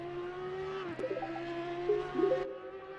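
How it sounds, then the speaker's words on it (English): A high-pitched V10 race car engine in the racing game Assetto Corsa Competizione whines and shifts pitch, rising and dropping as it revs, fairly faint and smooth with no talking. "What an incredible sound from the V10."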